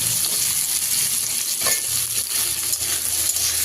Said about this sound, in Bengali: আর একটু সবজিটাকে নেড়ে নেব।